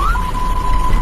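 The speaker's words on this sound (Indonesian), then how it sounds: "Kalau suara seperti ini berarti ambulan sedang membawa pasien tetapi tidak darurat." An ambulance siren used while carrying a non-emergency patient holds a single loud, steady electronic tone after a brief opening dip, sounding close and continuous.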